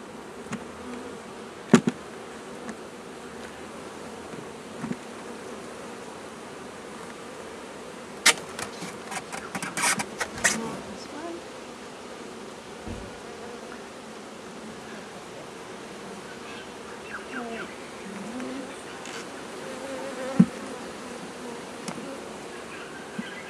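Honey bees hum around an open beehive while frames are handled, a steady close buzz with individual bees zipping past the microphone and occasional clicks and knocks of hive equipment.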